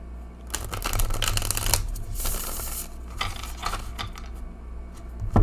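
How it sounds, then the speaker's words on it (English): A tarot card deck is shuffled close up, giving several bursts of crisp riffling and flapping card sounds with short pauses between them and little talking. "Oh, it shuffles really well."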